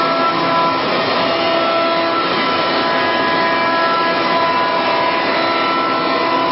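A 2006 Mikron UCP 600 Vario machining centre with 20,000 RPM spindle, chip conveyor and chiller runs with a loud, continuous, even whine and broadband rush, steady throughout with no pauses.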